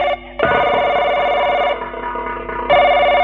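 A telephone rings indoors with a loud, sustained electronic tone that breaks off briefly near the start and again later before resuming, with no speech over it.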